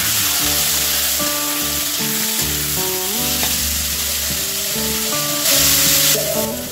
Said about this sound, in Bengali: কড়াইশুঁটিগুলো আমি ভালো করে ভেজে নেবো আলুর সাথে।